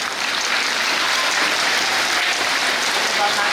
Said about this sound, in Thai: ปรบมือได้นะครับ